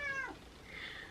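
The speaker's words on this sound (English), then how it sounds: "That's my cat." A pet cat indoors gives two short, fairly quiet meows, the first a little longer and higher, the second thinner, with nobody talking over them.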